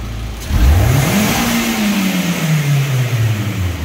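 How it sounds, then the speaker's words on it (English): A car engine revved hard from idle, pitch sweeping up quickly then easing down while staying loud and close, with no talking. "I'm saying give it a good rev."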